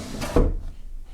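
Wooden drawer of a piece of furniture being prepared for painting slides shut with a short scraping rub ending in a solid knock, close and clear, followed by quiet.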